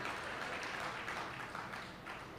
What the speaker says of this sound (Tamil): இது கூடுதலாக கைத்தட்டல் வரும் எப்போவுமே